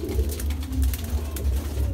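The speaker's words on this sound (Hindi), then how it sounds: "बहुत ही अच्छी आंखों में कबूतर है" Madrasi pigeons coo in low, rolling murmurs that repeat steadily and close by, over a constant low background hum, with no clear talk.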